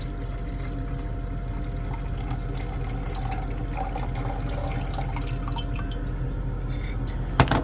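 Liquid holding a blue copper salt, stirred in a container during a citric acid, salt and hydrogen peroxide silver recovery, is poured off in a steady, continuous splashing trickle that runs close and unbroken for several seconds.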